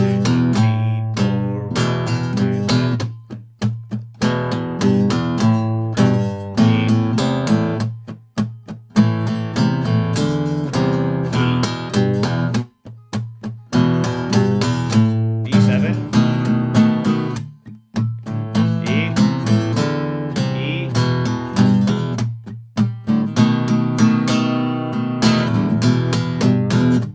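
An acoustic guitar plays a rocky blues riff over a chord progression, steady rhythmic strumming and single-note figures with brief pauses between phrases, close and clear with no talking.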